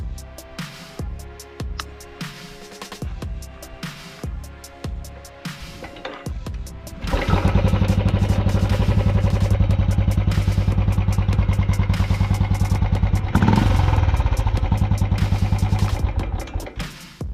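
A Royal Enfield Classic 350 Stealth Black BS6 with a self-start fault is kicked over, clattering and thudding for several seconds before the engine catches and settles into a loud, steady, thumping idle that runs to the end.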